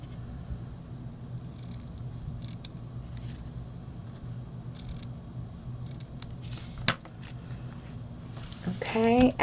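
Scissors snip ribbon on a handmade Easter bunny gift tag, with a few quiet cuts near the end over a steady low hum; a voice can be heard faintly.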